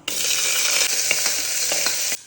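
Small shallots, fennel seeds and pepper sizzle steadily in sesame oil, a loud, close, continuous frying hiss with a few crackles, then it cuts off abruptly.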